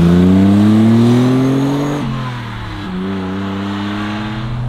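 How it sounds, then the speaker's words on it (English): A 1972 BMW 3.0 CSL straight-six engine revs loudly up the range, close and alone, its rising tone dipping briefly as it shifts and then pulling hard again. "It's when you get it high into the rev range, and that straight six sounds glorious."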